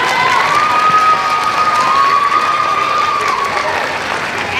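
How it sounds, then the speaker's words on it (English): Elementary school Veterans Day assembly crowd claps and cheers for veterans, loud sustained applause with children's shouts and a long whistle-like tone rising above the clapping. "And just one more round of applause for our veterans."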